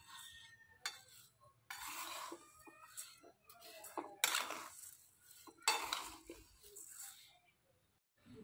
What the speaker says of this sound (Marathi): अशा पद्धतीचं छान तांदूळ भाजायचं चाललंय.